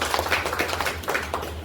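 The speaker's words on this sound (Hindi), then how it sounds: "हाँ जोरदार ताली बजा सकते हैं आप" An audience at a business weekly meeting claps in a few uneven bursts, moderately close, over a steady low hum in the room.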